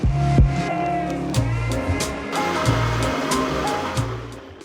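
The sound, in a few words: blender blending ice for piña colada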